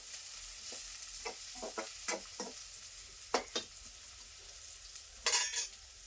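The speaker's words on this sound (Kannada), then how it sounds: "ಈ ಉಳ್ಳಾಗಡ್ಡಿ ಜಾಸ್ತಿ ಗೋಲ್ಡನ್ ಕಲರ್ನು ಬರ್ಬಾರ್ದ್ರಿ ಮತ್ತು ಜಾಸ್ತಿ ಹಸಿ ಬಿಸಿ ಇರಬಾರ್ದು ಕರೆಕ್ಟಾಗಿ ಇವಾಗ ಫ್ರೈ ಮಾಡ್ಕೊಂಡು ಹೋಗ್ಬೇಕು" Onions frying in a kadai with a soft steady sizzle, broken by scattered scraping stirs and a louder clatter of spoon against the pan near the end.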